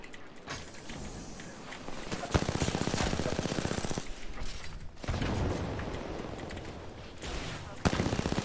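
Rapid automatic gunfire bursts from the video game Apex Legends come in sustained stretches, with brief pauses and sharper single shots, while a voice talks underneath.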